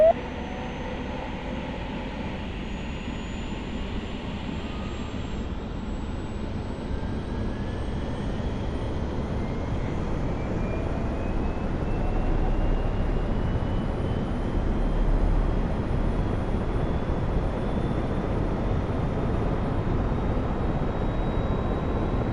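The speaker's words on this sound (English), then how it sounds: "I'm gonna pause the music so I can hear the damn engine." Aircraft engine in a flight simulator game, a steady jet-like roar with a faint rising whine, swelling slightly louder midway and continuing alone without talk.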